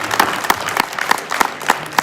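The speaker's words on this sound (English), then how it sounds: "how about a round of applause for you for what you've done?" Sparse, rhythmic applause from an audience at a political event with a congressman and senator, a few distinct loud claps ringing out in a steady beat, fairly close, with faint crowd murmur beneath.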